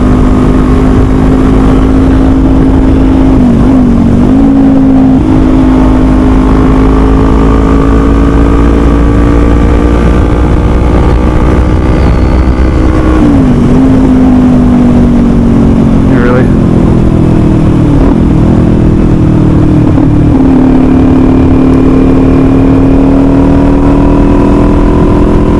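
A 2021 Kawasaki Z400 motorcycle holds a high, loud engine drone at speed, its pitch dipping briefly at shifts and climbing again, with wind rush underneath.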